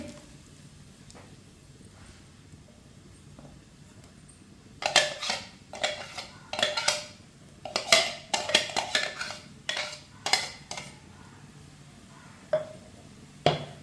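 A spoon clinks and scrapes against a pot as ground spices are stirred into rajma (kidney beans) on a lit stove. A few quiet seconds come first, then bursts of clear metallic clatter come and go.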